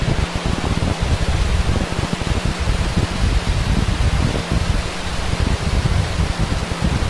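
A SpaceX Falcon 9 rocket roars at liftoff with its engines firing, a dense, loud, broadband rumble that holds steady without a break.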